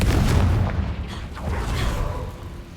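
A Confringo fire spell explodes during a Hogwarts video game, giving a loud, dense burst of booming, crackling noise that holds steady for a few seconds and then fades slightly.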